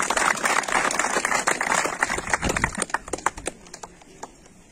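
Applause for a councillor at an official event in Huayllapampa, a burst of dense clapping that thins into scattered individual claps and fades out.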